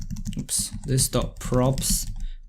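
Code is typed on a computer keyboard during a React and Firebase Redux setup, with rapid, close key clicks running beneath a man's steady speech.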